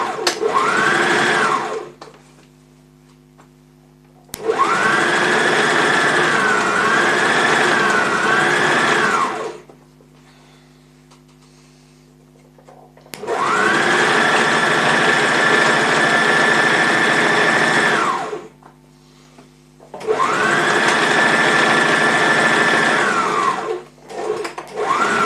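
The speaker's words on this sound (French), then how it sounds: "Et donc là, je couds à 1 cm mon cache décolleté" Close, loud sewing machine stitching a dress neckline facing at 1 cm, with three long steady whirring runs separated by quiet pauses and a steady tone through each run.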